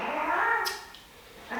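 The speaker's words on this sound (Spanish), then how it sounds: "O sea, los gatos se están volviendo locos." Cats meowing excitedly, a loud drawn-out wailing meow close by followed by a shorter softer cry, with brief quiet between calls.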